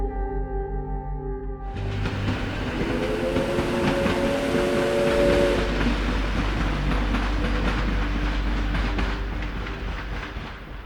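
Train wagons rolling along rails, starting quieter then swelling into a loud, steady rumble with rhythmic clatter and squealing tones that persist, unaccompanied by talk.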